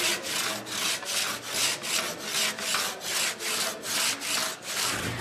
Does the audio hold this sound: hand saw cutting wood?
yes